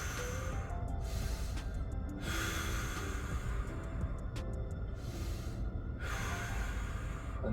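Deep breathing during a stretching exercise: slow, audible inhales and exhales come at regular intervals, close and fairly quiet, with no talking over them.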